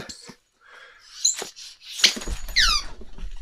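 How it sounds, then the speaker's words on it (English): A dog toy's thin, weak squeak, heard as a few short high squeals among dog snuffles and breathing, close and fairly quiet. "That's a pathetic squeak."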